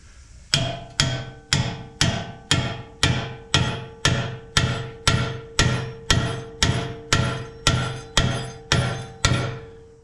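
Steady, forceful metal hammer blows strike a stuck tie rod on a Toyota 4Runner, about fourteen sharp ringing impacts in an even rhythm, each trailing off quickly, close and loud with no talk.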